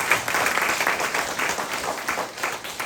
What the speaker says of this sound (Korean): 우리 박수 한번 쳐야 되겠죠?